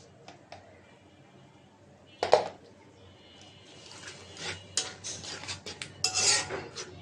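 A pan scrapes and clinks as ground spices with green chillies, chilli powder, turmeric and salt are stirred and sautéed for a puti fish and radish dish; quiet at first, then busier metallic scraping and knocks, close by.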